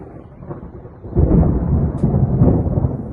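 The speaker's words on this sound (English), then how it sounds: "I guess we are having a thunderstorm." Thunder from a passing thunderstorm outside a speed shop, a low steady rumble that swells into a louder, rolling boom and keeps grumbling on.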